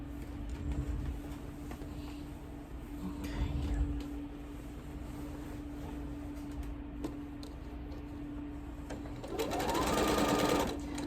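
A sewing machine runs steadily, stitching a quilted scarecrow project, with a continuous close mechanical whir held throughout and a louder burst near the end.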